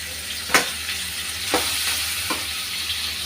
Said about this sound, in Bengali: মাছের মাথার কাঁচা গন্ধটা যাওয়া পর্যন্ত আমি ভেজে নিলাম